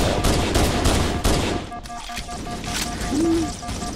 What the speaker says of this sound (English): But we will be shooting bullets.